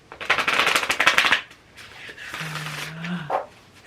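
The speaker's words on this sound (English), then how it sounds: "I like the sound and I like the feel of the shuffle on my hands like that" A deck of playing cards riffle-shuffled by hand, a dense crisp burst of rapid flutters for over a second, then a brief quiet, a sustained low tone and a soft closing tap.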